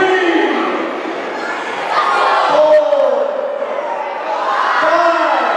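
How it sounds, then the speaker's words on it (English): A wrestling crowd in a packed hometown venue chants a count in unison, loud rhythmic group shouting with cheers swelling around it. "This crowd counting along."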